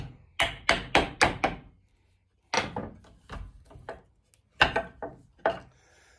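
A hammer knocks a piece off wood in a woodworking job, giving three clusters of sharp, close wooden taps and raps separated by short silences, with no talking.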